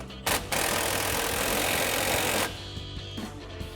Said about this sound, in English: now we're gonna grab our impact 15mm socket and 15mm wrench